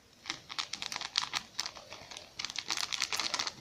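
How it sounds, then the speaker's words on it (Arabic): A bag of cake mix is opened and emptied in a kitchen: close, quiet crinkling of packaging with soft patter as powder pours out, in irregular bursts throughout. "واحط عليه كيس كيك شيف كله كيس كامل"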